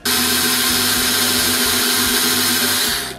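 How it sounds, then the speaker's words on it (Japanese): A power drill grinds down a stripped screw on a cheap junk device being repaired, a loud continuous whining buzz that holds steady for about three seconds before cutting off. "このねドリルで一回削っていきますね"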